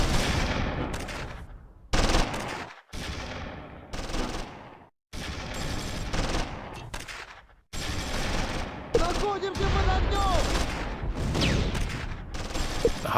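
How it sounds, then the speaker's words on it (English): Machine gun and armour fire from German positions in the Close Combat 3 wartime game, loud rattling bursts broken by short pauses and sharp cannon blasts, repeated across the stretch with close, dense impacts. "Intense German fire opens up from the armour and machine gun infantry."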